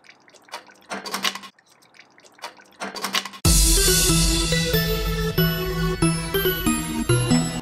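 Homebrewed butterbeer wort drains off in a run of trickling, dripping spurts, close and fairly faint, for a few seconds. Loud music then suddenly takes over and buries the sound.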